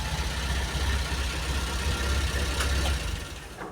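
Volvo car engine running at a steady idle, a continuous low rumble with a faint metallic ticking, close and alone, easing slightly in the final half second.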